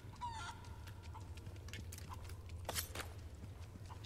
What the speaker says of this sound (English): I don't want to kill the chicken, but what if I did?